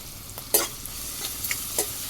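Crushed garlic and cumin paste fries in a pan, a low steady sizzle broken by a few sharp stirring scrapes and clinks, close and alone without any voices.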